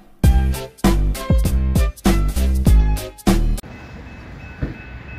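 A Norfolk Southern AC44C6M locomotive leading a short intermodal train sounds a series of loud, sustained horn blasts in quick succession, then they stop and a low rumble of the passing train remains.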